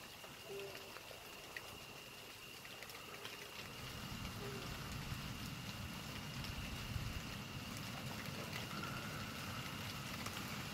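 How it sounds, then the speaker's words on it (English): Rain falls during a pop-up thunderstorm in Oklahoma, a faint steady hiss that thickens partway through, with a low rumbling layer underneath and no talk. "It's really starting to rain now."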